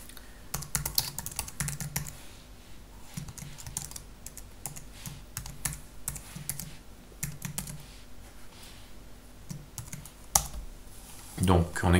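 Rapid computer keyboard typing of Python code, steady clicks and clatter throughout with a few louder key strikes near the end, close and alone.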